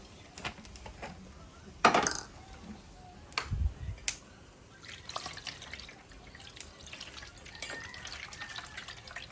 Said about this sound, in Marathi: चल हात धुवायला घे